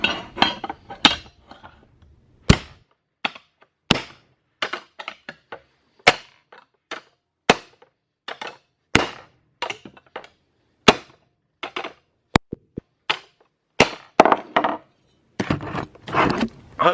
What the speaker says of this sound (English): I'm gonna get the hammer.